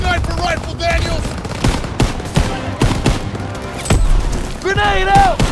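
Rapid gunfire in the World War II shooter Call of Duty: WWII crackles in sharp, irregular bursts of shots, loud and close, with shouted voices breaking in over the battle.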